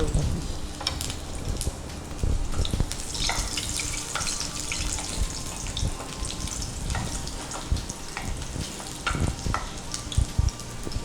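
Garlic and red chilies frying in a pan for a leafy palya, a steady broadband sizzle with intermittent stirring clicks and scrapes, close and fairly loud, no voices.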